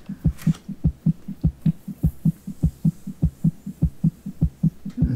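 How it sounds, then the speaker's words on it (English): A video game heartbeat thumps in a loud, deep, even double-beat rhythm, about three to four beats a second, with no speech over it. "I still hear the heartbeat."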